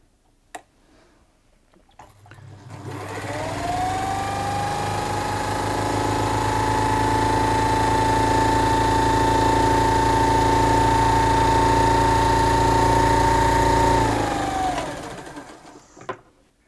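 A Bernina 117L sewing machine stitches a decorative pattern with the needle position shifted to the left, running steadily for about twelve seconds after spinning up, then winding down, loud and close, with no speech.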